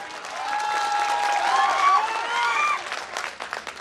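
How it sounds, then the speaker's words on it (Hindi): Applause from an audience at a Hindi poetry recital, a steady dense wash of clapping that swells and then thins toward the end, with a whistle-like tone riding over it. "एक बार जोरदार ताली पहले से बजा दीजिए।"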